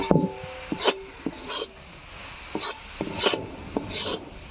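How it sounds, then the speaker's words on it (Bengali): Spoon scraping through a rice flour and coconut mixture with water in a pan for naru sweets, giving rhythmic rasping strokes about once a second, close and fairly loud, with no talk. "আমি একটু জল দিয়ে এটা একটু নেড়ে নিচ্ছি"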